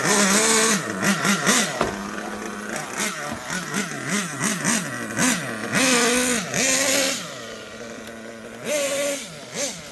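A Kyosho USA-1 nitro RC truck engine buzzes and revs in repeated rising and falling bursts, high-pitched and nearby, alternating with brief drops toward idle.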